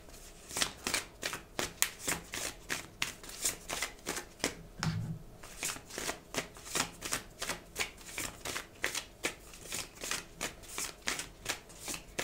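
Tarot cards being shuffled close up in a rapid, steady riffling rhythm of quick papery flicks that runs throughout, alone without talk.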